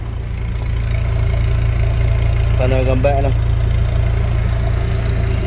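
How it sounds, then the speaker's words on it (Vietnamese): A Kia Spectra 1.6 with a manual gearbox idles with a steady, smooth low hum while someone talks over it nearby. "máy nổ rất êm, em đang để nổ máy đấy nhá"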